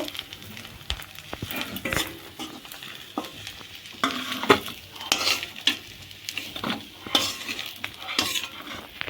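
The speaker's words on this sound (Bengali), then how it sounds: "এবার শুকু মাছগুলো ভাজা হয়ে গেছে এবার তুলে নেব" Dried fish sizzles quietly in a pan of oil while a metal spatula scrapes and clinks against the pan again and again, stirring the fish and lifting it out in uneven bursts, with no voices.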